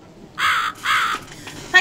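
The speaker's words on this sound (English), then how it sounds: "follow the crow" A crow caws twice in The Cat Lady video game, two harsh, drawn-out calls in quick succession, fairly close and loud, followed by a short sharper sound near the end.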